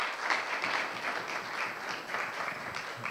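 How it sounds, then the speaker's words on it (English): Applause from a conference audience fills the room, a sustained, even roll of many hands clapping at moderate volume without a break. "so if they can get a big round of applause"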